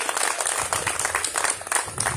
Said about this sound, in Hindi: खूब मंगल हो, जोरदार तालियों के साथ